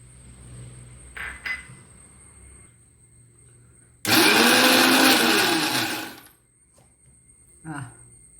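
A mixer grinder whirs loudly for about two seconds while grinding guava chutney with coconut, starting and stopping abruptly, with faint clinks and a brief voice before and after.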